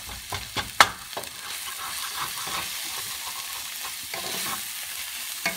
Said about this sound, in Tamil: தோசை கரண்டி எடுத்து இப்படி கொத்தி விட்டுக்கலாம்.